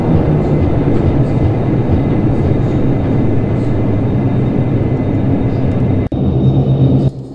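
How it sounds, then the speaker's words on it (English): Roar of Dash 8 Q400 thrust reversers on landing in a flight simulator: a loud, steady broadband rumble held for several seconds, a brief dropout near the end, then the noise eases. "And there goes our reversers."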